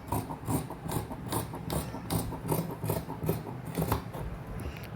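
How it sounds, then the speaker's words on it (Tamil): Scissors cut through blouse fabric in a quick, steady series of close snips and rasping slides, about two or three per second, continuous for several seconds with no talk. "இப்போ கட் பண்ணிட வேண்டியதுதான்"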